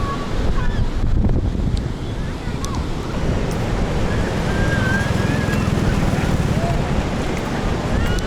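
Morning waves break and wash along Sea View beach in Karachi as steady wind roars into the microphone, a loud, dense continuous rush with faint higher sounds in the background.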